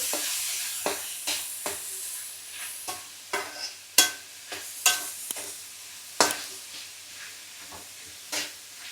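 Ginger garlic paste roasting in a pan, with repeated sharp scraping stirs over a faint steady sizzle, a dozen or so strokes spaced irregularly and heard close up.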